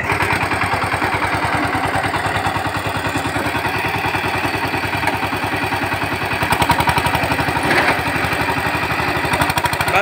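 A VST 130 DI power tiller with a gearbox fault runs steadily, its engine producing a loud, close, rhythmic mid-pitched chug throughout with slight surges, and no voices are heard.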